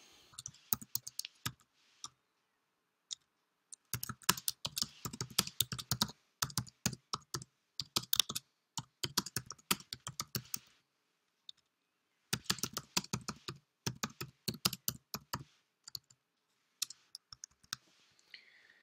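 Typing on a computer keyboard while entering text in Scratch, with bursts of rapid close clicking keystrokes separated by short pauses.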